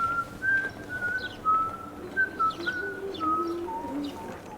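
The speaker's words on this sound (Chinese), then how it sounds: "那个人在吹口哨， 在吹教父。" A person whistles the Godfather theme on a street in Savoca, Sicily, a clear melodic line of sustained notes carrying over faint crowd and street ambience, with no talking.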